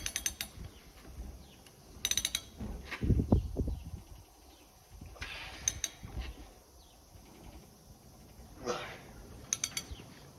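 A ratchet is used to tighten nuts on a small hydraulic cylinder from a CASE International cultivator, giving a few short bursts of fast clicking separated by quiet pauses and handling noise.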